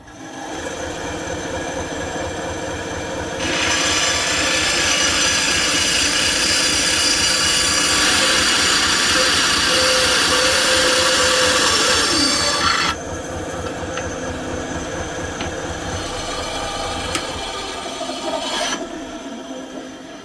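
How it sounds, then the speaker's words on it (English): A miter saw set to 65 degrees cuts wooden hooks for a hat rack: a loud, sustained whining cut of about ten seconds that rises over a steady motor hum and then drops back to idle. "Got my miter slide set up to 65 degrees. And we got to cut 5 of them."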